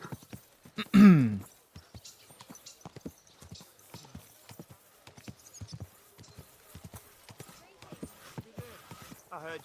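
Horse hooves clip-clop steadily in the video game Kingdom Come Deliverance 2, a rapid run of crisp nearby hoofbeats lasting throughout, with a brief whinny early on and talking over the top.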